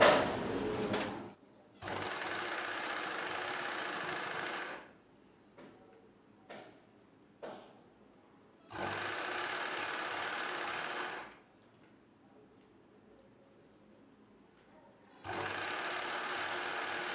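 Sewing machine stitching a folded edge on a saree petticoat, running in three long steady bursts of whirring with brief quiet pauses and small clicks of handling in between.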